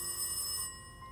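A telephone rings with a bright electronic tone that sounds for about half a second, then cuts off and leaves a quieter fading tail, with no voices.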